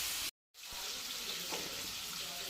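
Prawns frying in a pan for a prawn masala curry, a steady broadband hiss and sizzle that continues after a brief drop to silence near the start.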